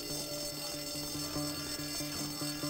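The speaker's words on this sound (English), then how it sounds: "Set my alarm." Alarm clock in the video game Bully ringing in a steady repeating electronic beep pattern, pulsing evenly over a constant background hum, with no talking.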